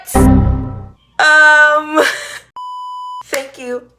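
A phone beeps with a single steady electronic tone lasting under a second, loud and close, set between bursts of a person's exclaiming voice.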